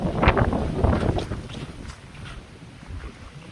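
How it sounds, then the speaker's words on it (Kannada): Strong wind buffets the microphone in rough, rumbling gusts, loudest at the start and then easing to a steadier blustery roar. "ಇಲ್ಲಿ ತುಂಬ ಗಾಳಿ, ಅದ್ರ ಸಂಬಂಧ ವಾಯ್ಸ್ ಕ್ಲಿಯರ್ ಬರ್ತಾ ಇಲ್ವೇನೋ ಅನ್ಸುತ್ತೆ."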